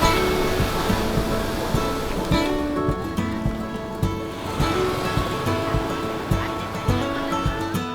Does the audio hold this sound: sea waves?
yes